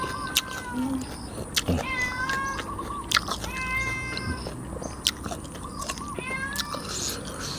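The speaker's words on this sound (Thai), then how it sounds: "น้องแมวน้อยครับ" A small cat meows several times, with rising and falling calls scattered across the stretch, fairly close over a low background rumble and faint chewing-like noises.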